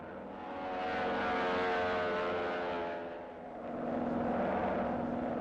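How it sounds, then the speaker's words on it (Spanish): American and British spy planes drone overhead, a steady loud engine roar that swells, dips briefly and builds again, with a rich harmonic whine. "Aviones espía americanos y británicos fueron en busca de prisioneros aliados en los antiguos campos"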